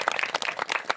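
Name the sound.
audience clapping to welcome singers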